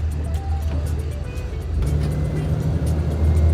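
A vehicle driving across a large bridge over the Damodar river, with a steady low engine drone and road rumble that swells slightly in the second half and continues throughout, no voices.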